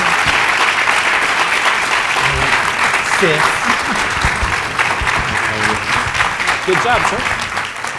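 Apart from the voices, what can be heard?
audience applause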